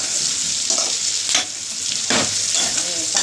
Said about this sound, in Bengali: ভালো করে এগুলো নেড়ে নিচ্ছে।